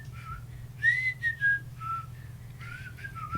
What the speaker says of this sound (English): He couldn't understand how I was whistling with my mouth open.